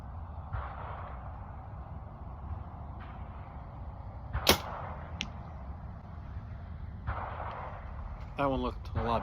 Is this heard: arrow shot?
yes